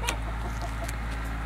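Backyard garden chickens clucking nearby, a few short clucks and murmurs over a low steady hum, with no talking.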